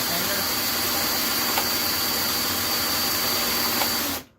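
A hand-cranked knitting machine spins steadily around while knitting a hat, giving a continuous mechanical whirring hum that runs unbroken for about four seconds and then stops abruptly.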